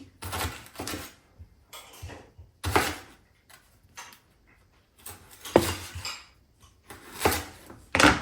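A knife cutting lengthwise through a sweet pumpkin, giving irregular clacking chops and thuds against a board, close and moderately loud, separated by quiet pauses.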